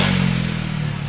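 A motorcycle passes near the Lodhi Art District, a loud, close rumbling engine with a steady throbbing beat.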